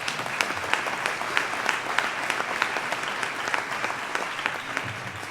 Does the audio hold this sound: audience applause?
yes